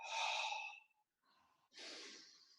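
Slow abdominal breaths during a yoga exercise: a long airy exhale, a short faint inhale, then another breathy exhale, close and soft with no talking.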